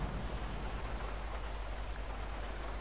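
Steady rain pours down in the video game Grand Theft Auto, a dense, even hiss that holds at a constant level throughout, with no voices.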